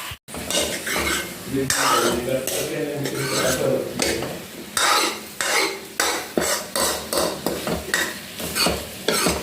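Vegetables mixed and stirred in a pot with a metal utensil, repeated scraping clinks against the pot over a soft sizzle, steady at first then in rhythmic strokes toward the end, close and without talk.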